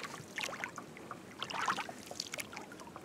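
A small boat moves across a foggy, cold lake toward a buoy, with faint splashing and water trickling against the hull in soft, irregular bursts.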